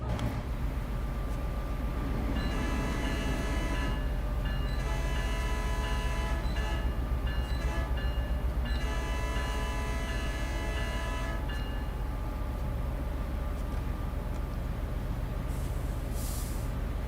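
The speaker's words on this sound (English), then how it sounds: "The brakes in this thing react quite strangely." A train in Train Sim World, with long horn-like tonal blasts and hissing brake sounds over a steady low rumble of rolling stock, fairly quiet and with no voices.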